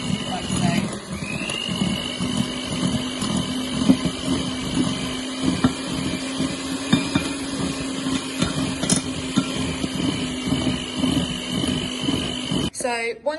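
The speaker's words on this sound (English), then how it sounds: "Then we're going to add in a little bit of icing sugar at a time, and then whisk that in." Electric whisk beating butter and icing sugar for cake making, a steady, close motor whine with a constant pitch that runs throughout and stops near the end, with a voice talking over it.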